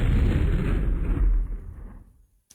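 An air gun attack in the MechQuest video game lands as a loud, booming blast with a rumbling burst that fades out over about two seconds.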